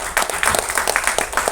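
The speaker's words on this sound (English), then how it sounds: "Can you please give a round of applause?" An audience at the trailer launch of Game of Change claps through a round of applause, loud and close, with crisp overlapping hand claps in a busy, uneven rhythm.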